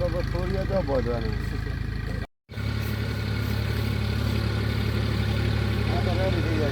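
On a cumin field, a tractor idles with a constant deep mechanical hum that briefly cuts out and resumes, while voices speak nearby.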